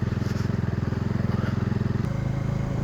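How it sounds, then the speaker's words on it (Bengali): A motorbike engine throbbing in a steady low pulse as it climbs a steep, curving mountain road toward Darjeeling in thick cloud, close and loud, the note shifting slightly partway through. "মেঘের উপর দিয়ে বাইক যাচ্ছে"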